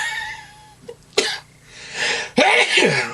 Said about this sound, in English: Told you that sneeze was coming.